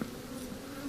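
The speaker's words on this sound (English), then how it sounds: "So now I've got to get all the bees off of here without disturbing them too greatly." Honey bees on a honeycomb frame held by a beekeeper make a dense, steady close buzz, an unbroken hum with no talking.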